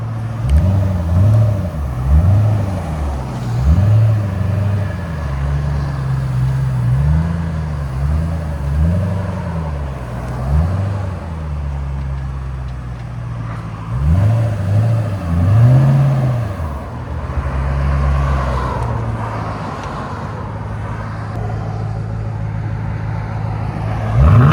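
A 2009 Ford Mustang Shelby GT500 with a 5.4L supercharged V8 and Black Widow Neighborhater exhaust revs repeatedly, deep throaty surges rising and falling over a rumbling idle, loud and close.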